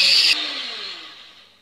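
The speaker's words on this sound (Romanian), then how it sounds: "Acum o să amestecăm puțin și cu mixerul" An electric mixer whirs loudly while mixing lemon cream, then drops to a lower hum that fades away as it winds down over about a second.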